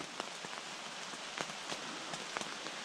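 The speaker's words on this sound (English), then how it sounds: "It's really raining now." Rain falls on a tent at a lakeside campsite, a dense steady patter with scattered louder drops striking the fabric up close.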